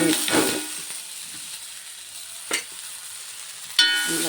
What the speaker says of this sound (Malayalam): നമുക്ക് വേണ്ടത് മുളകൊന്ന് ചെറുതായിട്ട് മൂക്കണം.